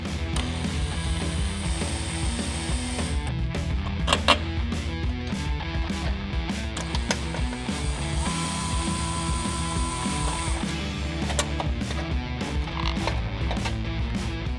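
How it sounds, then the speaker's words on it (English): A 5/16 wrench and Phillips bit remove the screws holding a license plate bracket on a Harley-Davidson motorcycle, giving a steady ratcheting clicking that runs close and continuous with scattered sharper clinks, no talking. "with your 5/16 wrench and your Phillips bit, we're gonna go ahead and remove these two screws that are holding the current license plate bracket"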